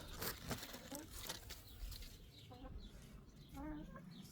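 Silkie chicken clucking softly in a London self-sufficiency garden, a few short quiet clucks and a brief warble over outdoor background noise.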